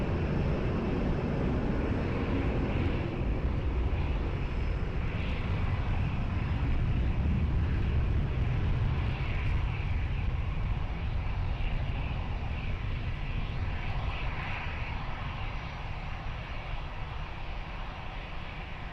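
A Swiss airliner takes off from runway 20 at Lisbon Airport, its jet engines a loud, steady roar that holds strong for the whole stretch and eases only slightly toward the end.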